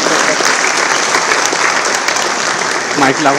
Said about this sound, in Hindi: एक बार उनका तालियां बजा के स्वागत कीजिए।